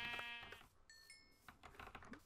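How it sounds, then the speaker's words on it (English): Sheep in Minecraft bleating, two short nasal bleats, the first at the start and a higher one midway, faint and close, with light clicking between them. "So we got sheep here though."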